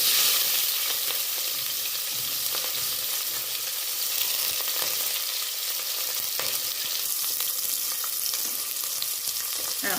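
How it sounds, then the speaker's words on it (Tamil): Onion, garlic and curry leaves hit hot oil after mustard seeds have popped, for tomato rice, producing a loud, dense, continuous sizzle with occasional stirring scrapes, close up and unbroken throughout. "இப்போ வந்து நம்ம இதை சேர்த்துக்கலாம். வெங்காயம், பூண்டு, கருவேப்பிலை."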